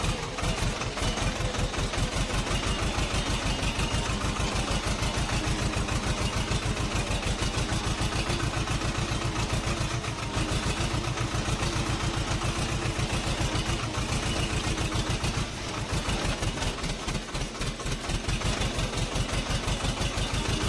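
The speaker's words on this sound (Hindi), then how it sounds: "तो हमने पानी के अंदर ले लिया ट्रैक्टर।" A tractor engine chugging while driving through water, a loud, steady, rapid diesel thump running close to the microphone throughout with no talk.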